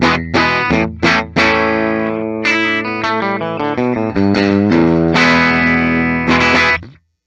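A 2023 PRS SE McCarty 594 Singlecut Standard electric guitar played through a clean tone on the bridge pickup, with sustained ringing chords and single notes in a strummed, rhythmic pattern, close and loud, ending in a fade to silence.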